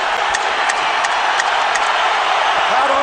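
A boxing arena crowd roars during the 12th round of Canelo Alvarez versus Golovkin, a dense, steady wall of cheering and shouting with faint periodic sharp ticks beneath it.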